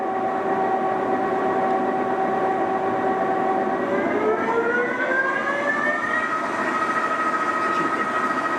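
A Hankook Protec-9NC hollow-spindle CNC lathe spindle runs up in its high range: a steady mechanical whine holds, then rises smoothly in pitch partway through and settles at a higher steady tone.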